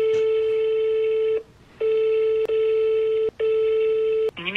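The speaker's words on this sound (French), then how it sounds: "je vais aller appeler Valérie Virginie" Telephone call tones heard while phoning someone, a steady electronic tone repeating in three long beeps with short gaps, loud and close, with no talking.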